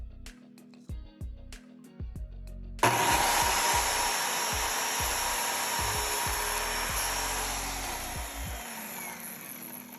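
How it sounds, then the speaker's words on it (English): A power saw cuts wooden trim pieces for framing a bookcase in a living room, a loud steady whine starting about three seconds in and running on after some brief knocks and handling sounds. "next I need to cut down all of the trim pieces that are gonna frame my bookcase"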